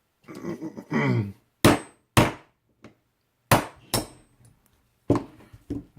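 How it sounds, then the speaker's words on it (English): A hammer strikes a metal punch to drive a pin out of an airsoft magazine, giving several sharp metallic taps in irregular pairs, close and loud, with handling clatter between them. "I have to get my hammer here real quick and punch this out."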